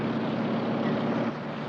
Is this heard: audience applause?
no